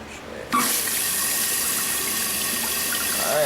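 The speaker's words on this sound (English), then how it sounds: "I'm going to go ahead and turn this water on, see if we have any leaking" Water gushes steadily from a newly installed faucet in a shipping container home bathroom, starting abruptly and running continuously, close and fairly loud, filling the sink.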